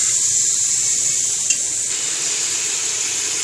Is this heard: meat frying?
yes